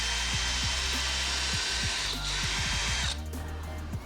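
A power drill drives a screw into a wooden race ramp, a steady close whine with repeated short catches and ratchet-like pulses, easing off near the end.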